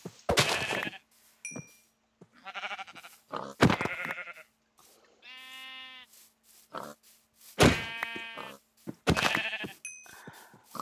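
Several Minecraft sheep bleat up close in short, nasal, wavering calls, about six of them spaced irregularly across roughly eleven seconds, with a few quiet gaps between.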